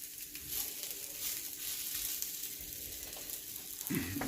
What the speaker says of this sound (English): Okay, it's been cooking about 2 minutes on each side. So I'm just going to flip it.